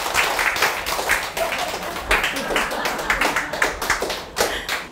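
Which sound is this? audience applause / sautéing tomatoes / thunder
audience applause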